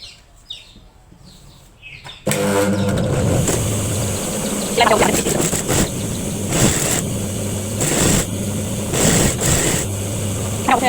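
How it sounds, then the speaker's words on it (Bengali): Electric sewing machine joining two pieces of hijab fabric with a double seam, running in a steady loud whir from about two seconds in, with brief pauses and restarts, after a quiet start. "আমরা এখানে ডাবল করে সেলাই দিই"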